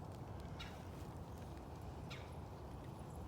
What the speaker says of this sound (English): if all this bird noise disappears